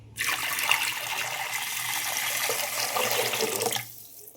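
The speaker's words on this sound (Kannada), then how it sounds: "ನೀರು ಹಾಕ್ಕೊಂಬಿಡೋಣ." Water is poured steadily into a cooker for sambar, a continuous splashing rush lasting several seconds that starts and stops abruptly, heard alone and close up.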